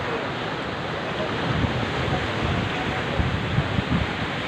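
Seawater surges driven by strong wind batter coastal village houses, a dense continuous roar of surf and wind rumbling loudly and steadily from start to finish.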